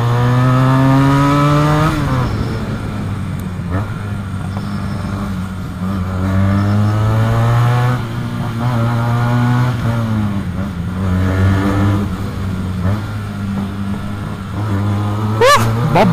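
A Benelli TNT 300 two-cylinder motorcycle engine revving up and settling back, a loud, steady, close engine note that rises and falls repeatedly throughout.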